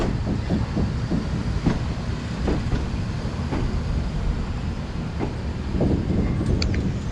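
A train rolls slowly across a railway bridge near Rameshwaram, giving a steady low rumble broken by irregular wheel clacks as the cars pass over the joints, with no talking.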